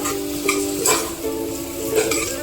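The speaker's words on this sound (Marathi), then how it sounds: "त्यामध्ये आपण घालणार आहोत खोबऱ्या सुक्या खोबऱ्याचं वाटण हे सुद्धा व्यवस्थित हलवून घ्यायचं" Dry coconut paste is stirred into oil with tomatoes in a pan for a sprouted moth bean curry, giving a soft steady sizzle under light spoon scrapes against the metal.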